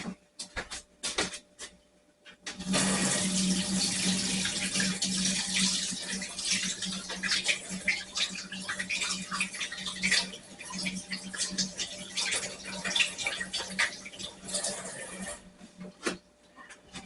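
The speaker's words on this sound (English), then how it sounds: "I'm going to rinse my hands real quick." Hands are rinsed under a running kitchen tap, a steady rush of water lasting over ten seconds after a few clicks and handling noises.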